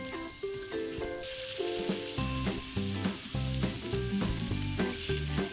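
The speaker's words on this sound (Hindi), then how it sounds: "2 मिनट के लिए मैं इसको थोड़ा सा सौते करूँगी।" Vegetables sautéing in a pan for cutlets, a soft sizzle running under prominent background music with steady tonal notes throughout.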